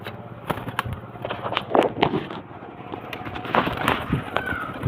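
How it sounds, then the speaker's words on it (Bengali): Pigeons released all at once coo and flutter close by, with bursts of wing flaps and scattered knocks amid a busy background. "আমি পায়রাগুলোকে সব একসাথে ছেড়ে ছক করাচ্ছি"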